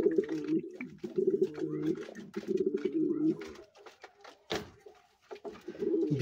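Pigeons kept on a rooftop coo in repeated low throaty phrases while drinking water in summer heat, close by, with soft rustling, wing flutters and clicks between calls.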